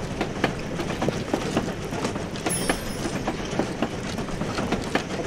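Train rolling along in the virtual reality game Trains VR, with a continuous rumble and a regular clickety-clack of wheels over rail joints, steady and close, with no talk.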